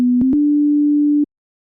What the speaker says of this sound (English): I think a sine wave might be pretty decent for a bass